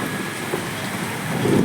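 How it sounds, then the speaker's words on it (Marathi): Early summer rain starts to fall, a close, steady patter and hiss of drops on surfaces that thickens slightly toward the end. "छान वाटलं पाऊस आला"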